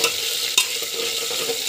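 Garlic, curry leaves and chana dal sizzle steadily in a hot pan while being stirred, with a clear spoon scrape partway through; continuous, close frying with no talk.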